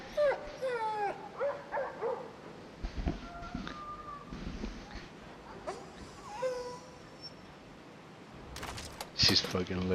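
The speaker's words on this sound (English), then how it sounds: "My dog hears the dog whining, and she's looking around for it." A dog in a video game whimpers and yips in a run of high, wavering whines, followed by a few short barks. The cries come in bursts with brief pauses between them.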